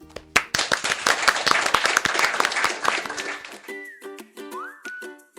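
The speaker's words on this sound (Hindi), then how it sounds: "इनके लिए जोरदार तालियां" A studio audience bursts into lively applause with dense clapping and a few whistles, lasting about three seconds before fading, followed by bright whistle-like musical tones.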